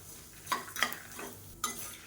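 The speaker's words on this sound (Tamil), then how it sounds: "நான் இதோட அப்படியே சேர்த்து வறுக்கிறேன்." Urad dal is dry-roasted in a pan with asafoetida and tamarind, giving a faint, dry rustle broken by three quick spoon scrapes against the metal.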